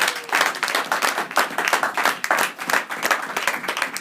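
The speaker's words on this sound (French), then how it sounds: "Est-ce qu'on peut applaudir pour la parole," A church congregation claps together in a lively, uneven burst of applause, many hands close by and sustained for a few seconds.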